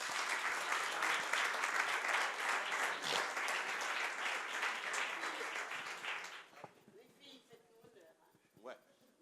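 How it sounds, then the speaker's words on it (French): Audience applause for a young participant at a sponsorship event for young Martinican talents, a fairly loud, dense round of clapping that tapers off into quieter scattered sounds near the end. "Bravo, on peut l'applaudir."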